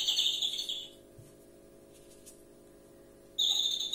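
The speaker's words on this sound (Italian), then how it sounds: "Se sentite questo uccellino, è il mio orologio come al solito," An indoor bird-song clock chimes the hour with a recorded bird call, a bright chirping burst at the start that stops, leaving quiet room tone, then returns near the end, fairly faint.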